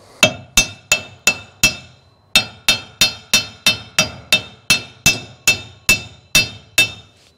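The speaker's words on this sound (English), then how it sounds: "Use a rubber mallet." Rubber mallet whacks on a Ford 9 inch rear end being driven into place: about seventeen loud, sharp, evenly spaced blows in a steady rhythm, close up with no talking.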